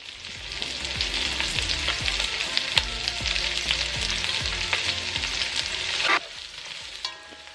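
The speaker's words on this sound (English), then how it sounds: "cooking and listening to the sound of the sizzle on the pan is everything" Food for sopa de salchichón sizzles and crackles steadily in a hot pan while a utensil scrapes and stirs in a regular rhythm, close up, then the sizzling drops away.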